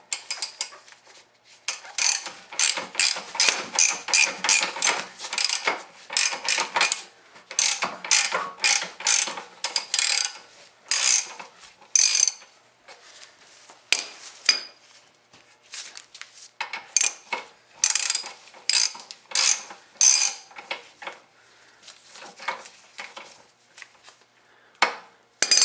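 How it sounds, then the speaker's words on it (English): Steady ratcheting clicks from a hand ratchet backing out a camber bolt on a BMW E36 suspension, with rapid bursts of pawl clicks broken by short pauses as the handle swings back and forth, close and alone. "Now we can just go in here with a ratchet,"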